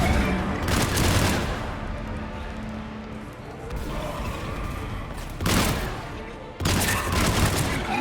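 Combat gunfire in Mass Effect 3 Legendary Edition on PC: loud rapid automatic bursts near the start, then a rumbling lull of battle noise before two more sharp volleys erupt toward the end.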